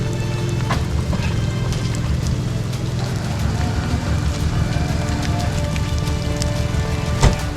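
Heavy storm rain pounds steadily on surfaces and a vehicle during an off-road winching recovery, a dense continuous roar with scattered louder drop hits and a sharp knock near the end.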